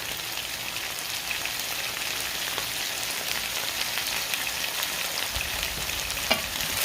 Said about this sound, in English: Now that I have those potatoes into the hot oil